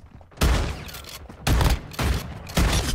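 Four loud shotgun blasts in the video game Warzone, each a heavy boom with a short decay, fired at uneven intervals of roughly a second.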